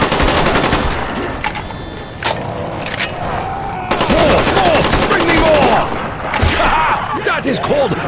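Rapid automatic gunfire from a Call of Duty Black Ops Zombies match on the Ascension map, a loud sustained rattle layered with game effects and dense action noise throughout.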